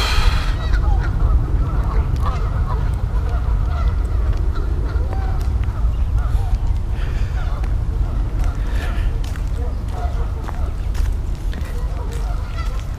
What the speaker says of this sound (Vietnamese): chỉ có ngỗng không